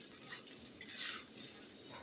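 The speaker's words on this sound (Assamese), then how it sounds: "সেইকাৰণে মই ফুল গেছতে এনেকৈ ভালকৈ মিলাই লৈছোঁ" A spoon stirs and scrapes through veg pulao rice in a pan over a full gas flame, with soft, quiet shuffling strokes and faint sizzle.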